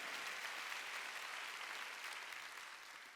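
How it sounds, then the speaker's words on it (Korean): Steady applause from a church congregation at a Wednesday worship service, a dense even wash of hand claps that holds loud and then gradually tapers off. "박수 치라니까"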